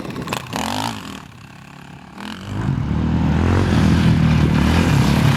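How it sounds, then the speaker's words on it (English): A KTM 620 dual-sport motorcycle revving on a hill climb, a short clattery blip at first, then a steady, loud, rising engine drone that holds to the end. "that KTM there is a 620"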